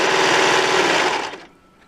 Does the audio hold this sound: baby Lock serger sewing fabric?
yes